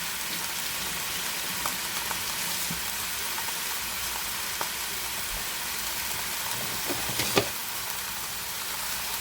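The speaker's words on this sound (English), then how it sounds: "And as that lamb starts to cook, we're going to break it up." Ground lamb for shepherd's pie sizzles in a pan with a soft continuous frying hiss, broken by a few faint scraping knocks as it is broken up, close by and without speech.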